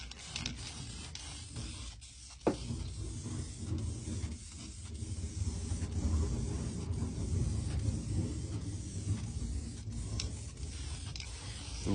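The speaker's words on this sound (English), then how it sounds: "So we'll just spray it and you'll literally see what happens." Crackle-finish paint sprayed from an aerosol onto an engine sump and front plate: a continuous hissing spray at close range, with small pauses and shifts in intensity.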